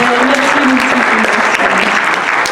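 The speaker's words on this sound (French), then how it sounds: "On applaudit Marie-Frédérique" Dense, steady applause from a festival award-ceremony audience in Courchevel, continuous clapping filling the room at full strength for the whole moment with no voices standing out.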